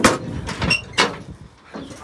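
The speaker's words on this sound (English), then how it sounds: "Wait, I'll open this front door so we'll get more light." Front door of a livestock trailer opening in a lambing barn: a few close, loud knocks and rattles in quick succession over about two seconds, with no voices.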